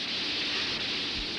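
Steady rain hisses in a movie scene, a dense, even wash of falling drops with no break and no voices.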